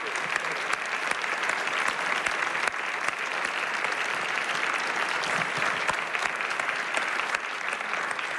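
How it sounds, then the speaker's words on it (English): An audience at an author talk with Richard Russo on life and art breaks into steady, sustained applause, many hands clapping evenly throughout with no pause, heard from within the room. "Can we have another round of applause?"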